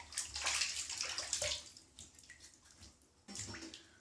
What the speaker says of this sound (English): let's have another little rinse